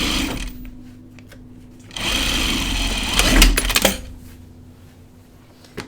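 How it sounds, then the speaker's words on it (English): A sewing machine runs a seam on a jacket without its lining in bursts, with a steady whirring drive between quieter pauses, close by, with faint handling clicks and a short louder rattle midway. "I'm just going to sew this seam without the lining in it"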